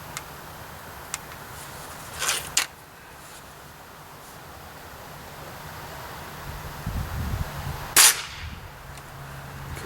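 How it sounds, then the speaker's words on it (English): A .177 pellet rifle fires with a single sharp crack outdoors, preceded by faint mechanical clicks and handling noise, with light wind rustle in the background. "there's the pellet rifle. You saw how loud that was."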